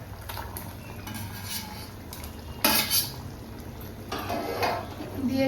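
Paneer pieces going into simmering posto (poppy seed) gravy in a pot, with a clatter of utensil against metal, a short splashy plop and soft stirring scrapes over a low bubbling background.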